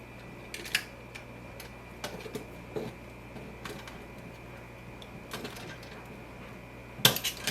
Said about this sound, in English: This is our ground wire, so we're going to tighten it down till it's fairly tight.